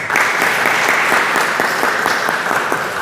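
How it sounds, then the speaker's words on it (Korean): Korean church congregation at a Sunday worship service in Prague applauding one another, a dense, steady wash of many hands clapping at full strength throughout. "우리 한번 서로와 서로를 위해서 한번 박수하도록 하겠습니다."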